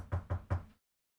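Three firm knocks on a door, evenly spaced and close, sounding alone before falling silent.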